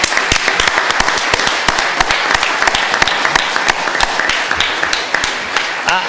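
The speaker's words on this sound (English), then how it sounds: "I think we owe these fine young adults a round of applause." A roomful of people at a county commissioners' meeting applauds a group of young adults, dense steady clapping with sharp individual claps standing out throughout.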